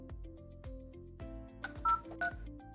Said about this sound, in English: I'm going to dial an extension of somebody I know isn't going to answer.